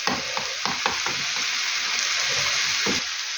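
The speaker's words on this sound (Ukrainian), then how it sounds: "Отак гарненько перемішаю." Stewed cabbage with tomato paste sizzles in a pan while a spoon stirs it, with soft scraping strokes over a constant close frying hiss and no talk.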